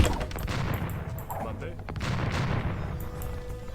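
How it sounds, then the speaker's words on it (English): Trebuchets and siege weapons bombard a castle in a medieval real-time strategy game, a steady barrage of booming impacts and crashing hits under continuous commentary. "4 trebuchets now are going to take this castle down"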